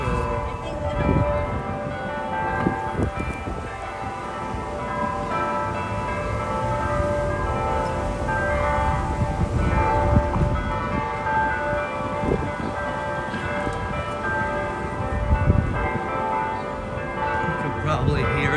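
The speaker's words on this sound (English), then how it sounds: "it is a Sunday, so there are church bells chiming" Church bells ring on and off on a Sunday with a sustained, resonant tone over busy outdoor ambience in downtown Indianapolis, with talking mixed in.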